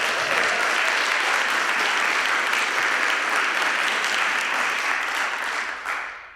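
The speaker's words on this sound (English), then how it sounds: "Give yourselves a round of applause." A concert audience at Merkin Hall for a university singers' fall performance breaks into sustained, dense applause, a steady wash of many hands clapping that holds evenly before tapering off at the end.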